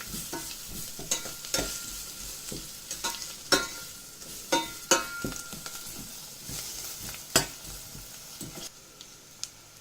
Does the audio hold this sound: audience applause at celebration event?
no